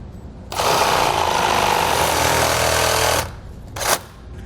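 A power tool cuts off the jounce stop on a 2017 Toyota Tundra, giving a loud, steady, harsh grinding roar of nearly three seconds that ends abruptly and is followed by a short second burst.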